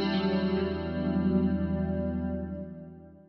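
A clean, sustained electric guitar chord rings out with a slight shimmering wash, then slowly decays over a few seconds, played alone.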